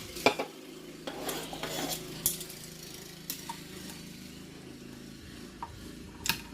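A steak sizzles in a hot pan as it is turned over, with a steady frying hiss under scattered scrapes and clinks of a utensil against the pan, loudest in a few sharp bursts.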